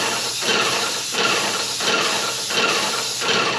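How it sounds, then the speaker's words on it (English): A spray gun hisses in repeated bursts, a broad airy spray that swells and dips rhythmically about every half second, close by. "You want to be able to spray a consistent coat with the lowest possible pressure."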